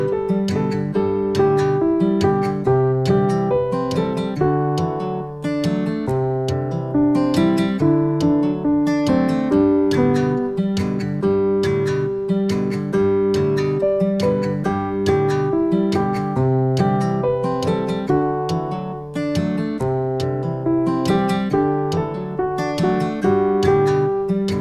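Solo piano plays the verse of a song in a simple beginner-level arrangement, steady rhythmic chords and melody sounding close and clear for the whole stretch with no talking.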